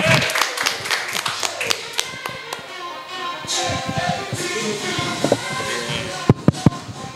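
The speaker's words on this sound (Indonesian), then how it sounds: "boleh tepuk tangan buat Akbar." A small studio group claps for a soccer talk show, producing a loose run of sharp hand claps and taps that thin out, then finish with a few louder separate claps near the end.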